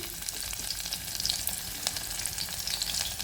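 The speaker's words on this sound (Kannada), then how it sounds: "ಚುರೇ ಚೂರು ಸಾಸಿವೆ ಹಾಕ್ತೀನಿ ಹಾಗೆ ನಾನು ಸ್ವಲ್ಪ ಜಜ್ಜಿ ಬಿಡಿಸ್ಕೊಂಡಿದ್ದಂಥ ಬೆಳ್ಳುಳ್ಳಿ ಹಾಕ್ತಿದ್ದೀನಿ" Crushed garlic and mustard seeds frying in hot oil with a steady, close, crackling sizzle and scattered pops and stirring noises throughout, with no voices.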